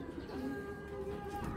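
Racing pigeon cooing close by, a soft, low throaty coo over a quiet background, brief and alone.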